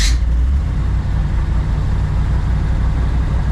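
1957 Tri Five car engine running steadily after the fuel pump is switched on, a loud, close, rough low idle rumble that holds constant throughout, with a brief hiss at the very start and no voices.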